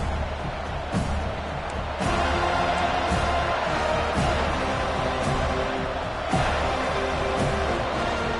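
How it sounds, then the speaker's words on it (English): Football stadium crowd at a Florida State home game roaring in a sustained, loud wash of cheering, with occasional sharp thumps rising above the noise. "This crowd bringing an ear-splitting welcome to their visitors"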